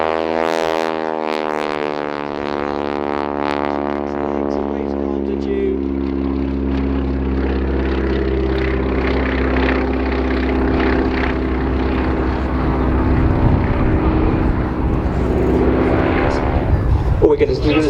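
A World War II warbird comes in to land at an airshow, its propeller engine droning steadily and loudly with a shifting, descending pitch as it passes; a commentator talks over the engine throughout.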